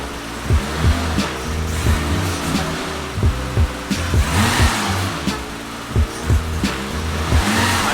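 A BMW E30 engine runs steadily at idle in a budget project car, with a close, low mechanical drone and several brief sharper blips or revs spread across the span, no talking.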